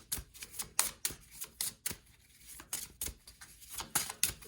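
Tarot cards are reshuffled by hand, giving a quiet, close run of irregular crisp clicks and flicks.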